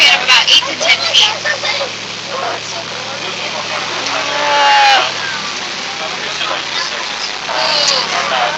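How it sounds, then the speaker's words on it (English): Rain driven sideways by wind at an outdoor nature spot with pelicans, a steady broadband hiss of drops that swells and fades in gusts, with a voice audible in the background. "Of course, it's raining sideways"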